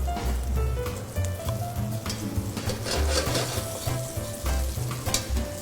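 Guanciale fries in a pan as its fat renders, giving a steady, dense sizzle and crackle close up, with occasional stirring scrapes and a low rhythmic hum underneath.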